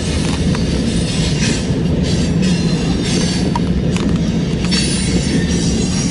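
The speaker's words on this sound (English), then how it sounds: "This is BNSF running north here in Fremont, Nebraska. Get ready to cross the diamond right here." A BNSF freight train running north in Fremont, Nebraska, rumbles close and loud across a railroad diamond, its wheels clacking and faintly squealing over steady heavy rolling noise.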